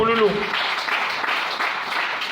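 A church congregation applauds the Lord, a steady wash of clapping from many hands filling the room right after a voice finishes speaking.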